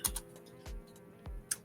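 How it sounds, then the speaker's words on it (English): Quiet, close keystrokes tap on a computer keyboard in a few scattered clicks with pauses between them, and no voices are heard. "I'm just typing it up online."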